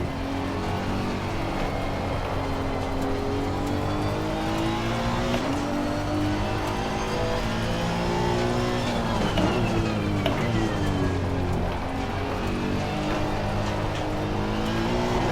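A Honda NSX GT3 race car in Assetto Corsa Competizione screams at full throttle, its engine note rising and falling steadily through gear changes for the whole stretch, with faint tire noise underneath and no talking.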